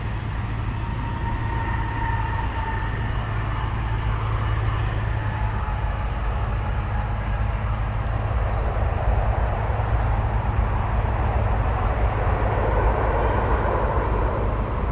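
Continuous low aircraft rumble at DFW Airport, a steady broad drone that fills the whole stretch without pause, like airplanes passing overhead at a distance.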